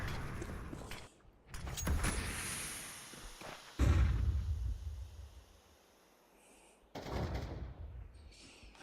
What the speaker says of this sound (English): Throwing flashbang. Flashbang out. Throwing smoke.